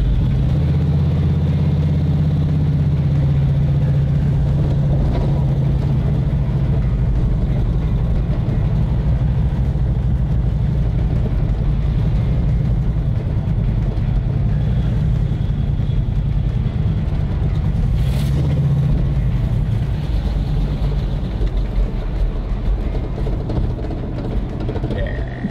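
A restored muscle car's engine runs continuously while driving, a loud steady low rumble with slight shifts in pitch as it moves, lasting throughout with no clear speech.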